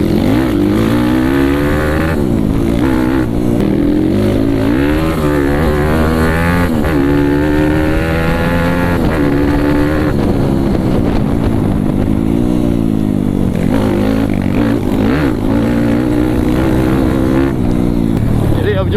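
Trail motorcycle engine droning loudly and rising in pitch as it speeds up on a rural route, continuous throughout with voices talking over it.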